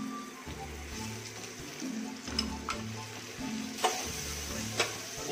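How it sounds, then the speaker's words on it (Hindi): Carrot pieces fry in a small amount of leftover fish oil, giving a steady close sizzle with a few sharp clinks and scrapes from a utensil against the pan. "अभी इस ऑयल में मैं ये कैरेट छोड़ रही हूँ।"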